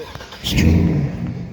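A pickup truck engine fires up and settles into a loud, rough low rumble outdoors, rising sharply after a short quiet lead-in and holding steady for about a second.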